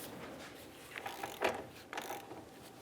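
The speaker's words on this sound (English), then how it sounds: "Torque the nut to 55 foot-pounds." A torque wrench ratchets a nut tight on a Buick Enclave rear upper control arm, a few quiet close clicking pulls in quick succession without any talking.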